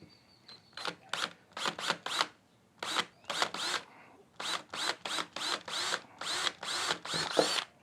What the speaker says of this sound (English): Just gonna start off with a small drill bit. It's a 1/8 drill bit.